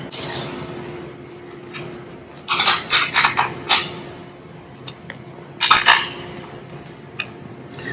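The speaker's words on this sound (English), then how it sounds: "now the screws get put back on" Screws being refitted on a fender eliminator for a 2020 Yamaha R6 motorcycle: a few clusters of sharp metallic clinks and rattles against a quiet hum, close by, with gaps between the bursts.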